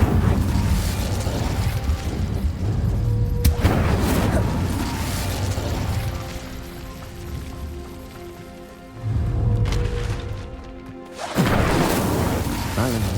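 The Incendio fire spell in Hogwarts Legacy, loud whooshing roars and crackling blasts rising and falling in several surges, mixed with other noisy game effects.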